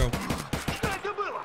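Gunfire from an Escape from Tarkov: Arena round: a quick series of loud, evenly spaced shots, then a voice speaking as the firing stops.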